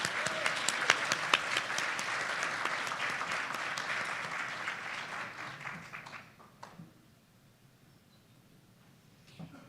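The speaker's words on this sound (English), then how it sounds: "I would love to give you a round of applause" Audience applause for the judges at a West Virginia entrepreneurship competition, a dense crowd clapping loudly for about six seconds before thinning out and fading to scattered claps.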